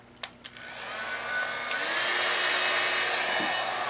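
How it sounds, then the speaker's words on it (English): A two-speed hot air brush used on a synthetic wig clicks on twice, then runs as a steady, loud blowing whir with a thin motor whine that holds throughout. "so hot air brush, it has 2 speeds"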